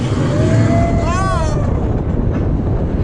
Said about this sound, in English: We're on the front row of the Seven Dwarfs Mine Train.